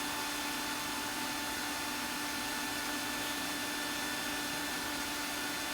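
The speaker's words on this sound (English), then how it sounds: "This 100 grit, I'm just taking out any tool marks that I might have left, refining some of the curves just a touch." Someone sands a wooden mushroom on a woodturning lathe with 100 grit sandpaper, giving a steady, faint whirring hiss with a faint motor hum underneath.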